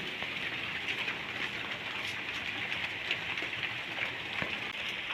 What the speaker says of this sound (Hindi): बारिश जो है ना शुरू हो चुकी है